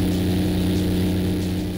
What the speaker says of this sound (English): The coolest part about an airboat is the massive propeller